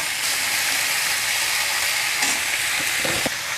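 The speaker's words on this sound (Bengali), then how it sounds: "এবার দিয়ে দিচ্ছি কেটে রাখা সবজি।" Cut vegetables, including potato and Malabar spinach, are stir-fried in a pan for a rohu fish head curry: a loud, continuous sizzle with a few scraping stirs toward the end.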